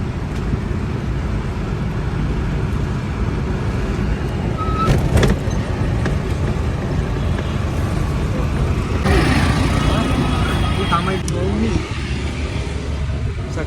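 An auto rickshaw ride through crowded city traffic in India, with a continuous rumbling engine drone and road noise throughout, passing vehicles and occasional horn-like bursts rising over the steady din.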